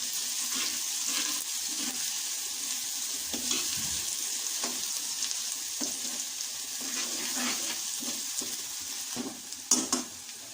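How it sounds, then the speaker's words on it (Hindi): Garlic paste sizzling with browned onions in a hot pan for dal mash, a steady close crackle with a spoon now and then scraping and stirring, and a few sharper clinks near the end. "अब हम इसमें लहसुन का पेस्ट ऐड कर देते हैं। इसे 1 मिनट फ्राई करने के बाद"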